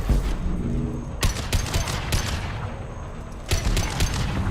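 Several sharp, heavy weapon blasts from a Mass Effect 2 impact shot ring out about a second apart over a constant rumbling battle ambience. Each blast is loud and close.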